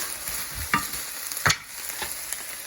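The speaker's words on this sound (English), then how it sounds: "So I'm just gonna turn this down, simmer it, put it on low." Thin sliced Korean BBQ steak cooking in a pan, a soft steady sizzle broken by a few sharp scrape or stir clicks, close and fairly quiet with no voices.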